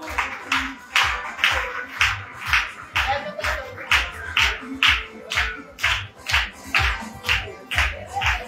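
An audience at the Olifofo 2025 event claps together in a steady, rhythmic beat, about two claps per second, loud and sustained.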